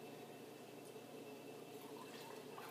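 Three egg yolks and milk poured into a bowl for a lemon pudding cake batter, a continuous close liquid pouring and filling sound with light dripping, steady throughout and without talk.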